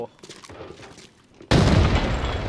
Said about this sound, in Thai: ปาระเบิดมาแล้ว